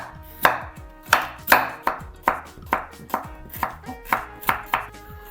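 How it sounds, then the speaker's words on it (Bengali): A knife chops peeled beetroot into small pieces on a board, about a dozen sharp, close, evenly spaced blows with no talk. "এবার যার যেভাবে খুশি কেটে নিন"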